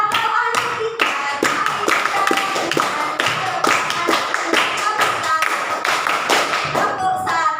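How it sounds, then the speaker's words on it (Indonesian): Children in a fifth-grade class clap their hands in a patterned rhythmic chant, sharp repeated claps close by with singing voices throughout. "Kalau anak pintar tepuk tangan."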